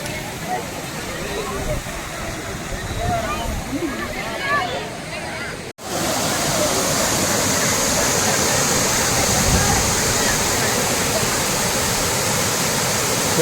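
The fountain at Brindavan Garden in Mysuru sprays and splashes as a steady broadband rush of falling water. Voices talk underneath for the first half, and after a brief cut the water continues louder and constant.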